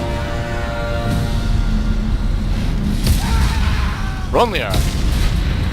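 In the video game Mass Effect 2, explosions rock the starship Normandy as it is torn apart: heavy booms and rumbling blasts under alarm-like tones, with a voice speaking briefly amid the chaos.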